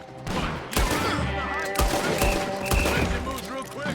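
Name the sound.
gunfire in video game Red Dead Redemption 2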